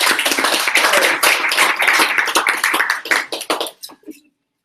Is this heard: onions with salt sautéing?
no